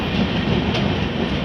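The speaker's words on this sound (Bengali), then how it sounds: "এটা হাওড়া চেন্নাই করমণ্ডল, হল্ট নেই" Howrah–Chennai Coromandel Express passing close by without stopping, a loud, steady rush of train noise with rolling wheel rumble filling the whole short stretch, no voices.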